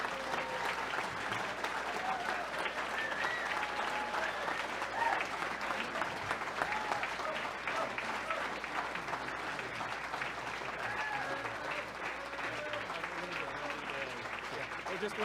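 A seated audience gives a sustained round of applause at an indoor thank-you gathering. Dense, even clapping from many hands carries on for about fifteen seconds at moderate level, with faint voices blended into the crowd.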